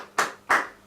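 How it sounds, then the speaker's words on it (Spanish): Two crisp flamenco palmas claps ring out close and bright, about a third of a second apart, each with a short decaying tail, marking rhythm for singing. "Esas son las palmas que he utilizado para hacer el ritmo y cantar la canción."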